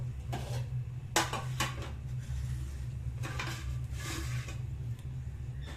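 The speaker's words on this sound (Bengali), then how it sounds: "ভিন্ডাগুলো এরকম করে দুদিক কেটে নেব।" Kitchen knife trimming both ends off fresh okra pods on a cutting board, a few sharp taps and scrapes with brief clinks, close and fairly quiet over a steady low background hum, with no talking.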